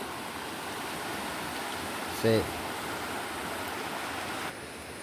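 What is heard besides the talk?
rushing flooded river after a storm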